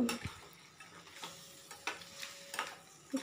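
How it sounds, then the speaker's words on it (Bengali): Potatoes are stirred and sautéed with crab masala in a pan, making quiet, intermittent spatula scrapes and taps against the pan over a soft sizzle, close and brief, with no talking. "আলুগুলো দিয়ে আরও একটু কষিয়ে নেব"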